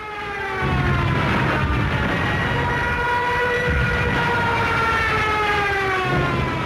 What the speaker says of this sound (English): The German Junkers 87 dive bomber, nicknamed the Stuka and fitted with a screaming siren